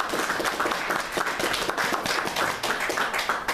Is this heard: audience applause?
yes